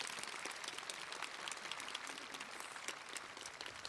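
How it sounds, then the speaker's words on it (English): Applause from the crowd at a high school commencement ceremony, continuous clapping from many people that sounds distant and fairly quiet, holding steady with no voices over it. "Let's give them a round of applause."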